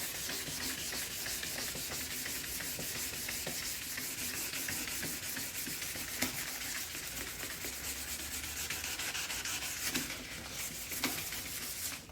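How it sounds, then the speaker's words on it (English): Steady hand sanding of a car headlight, a continuous dry scratchy rubbing with a few louder strokes near the end, close up and with no talking. "not gonna make anyone sit through any sanding because we all know how to sand"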